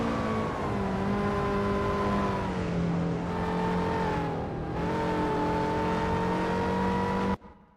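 A classic touring car in the Assetto Corsa racing game at Union Island Scenic holds a loud, steady engine drone, rising and falling slightly in pitch before cutting off abruptly near the end.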